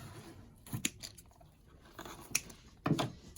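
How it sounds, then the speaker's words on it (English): Scissors snipping through stems and ribbon for a Christmas swag kit, a few quiet, close crisp cuts spaced apart with soft rustling in between. "Now I'm ready to cut those."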